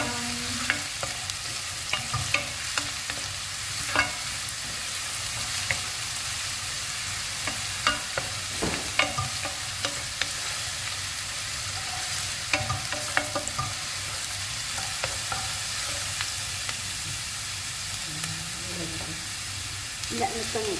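Chicken liver fries and is stirred in a pan until brown, a constant close hiss of sizzling oil dotted with scattered clicks and scrapes of the spoon, without talking.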